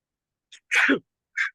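A single sharp sneeze bursts out close by, with a quick intake of breath before it and a short trailing sound after.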